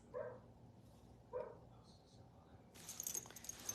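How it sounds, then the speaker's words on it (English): A dog barks indoors a couple of times, faint and separated by pauses, with a brief burst of hissing noise at the end. "Let me get the dog to quit barking, or the neighbors call the police on us."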